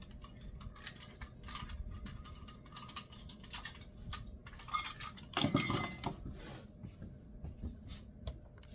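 A cup scoops dried herbs from a container, producing a run of close, irregular rustles, taps and light clinks of varying loudness, with one denser scraping burst partway through.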